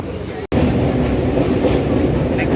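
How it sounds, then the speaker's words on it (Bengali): Inside a crowded moving passenger train, a loud continuous rumble of wheels and carriage noise runs throughout with a brief dropout near the start, and crowd voices mix into the din. "আমি ট্রেনে উঠে গেছি, খুব ভিড় তাই কথা বলতে পারছি না"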